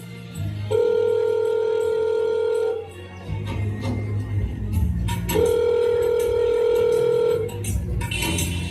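A telephone is dialed to call a son. Two long, steady, loud tones sound with a break between them, and a low hum and faint background noise run underneath.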